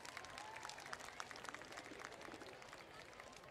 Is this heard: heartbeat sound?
no